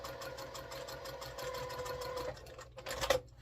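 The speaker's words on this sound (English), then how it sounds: "sew a 1/4 of an inch seam" A sewing machine stitching a quarter-inch seam on a quilt block, its needle running in a quick, steady mechanical chatter close up, ending with a brief clunk and rattle.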